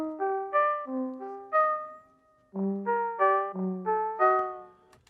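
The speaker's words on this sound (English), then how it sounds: "So let's start with the pluck first." Synth pluck from a remake of a song, played dry without reverb or filter: a crisp, close melodic phrase of short plucked notes in a steady rhythm, each decaying quickly, with a short pause midway.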